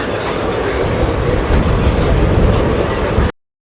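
Train ride approaching Bengaluru Majestic: a loud, continuous rumble of the moving coach with rattling and brief metallic clicks, cutting off abruptly into silence.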